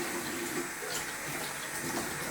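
Water rinses out beer kit equipment in a steady, soft, continuous rush from a tap or hose, with no voices.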